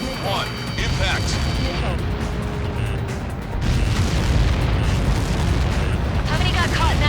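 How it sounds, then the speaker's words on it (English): A massive explosion in the flight combat game Ace Combat 7 rumbles on as a deep, continuous roar, swelling louder midway, with radio chatter and crackling bursts layered over it. "How many got caught in that explosion?"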